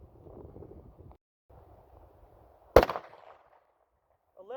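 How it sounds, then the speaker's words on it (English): A 9mm pistol loaded with 115 grain Critical Defense ammunition fires a single sharp, loud shot outdoors with light wind noise, and its report fades quickly into quiet. "Now we'll fire the 9mm with the 115 grain critical defense."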